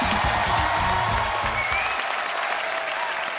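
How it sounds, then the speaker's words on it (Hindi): Loud, dense applause from a large studio audience at a TV comedy show fills the room, with some cheering and voices mixed in at first, then steady clapping continues. "जोरदार तालियां हो जाए एक बार"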